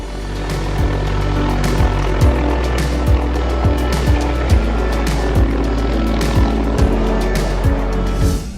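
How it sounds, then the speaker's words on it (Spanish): A rescue helicopter hovers close over power lines where an eagle is trapped, its rotor thumping loud and steady with a regular beat and a constant engine whine. "Un rescatista en helicóptero temerariamente se acerca para rescatarlo."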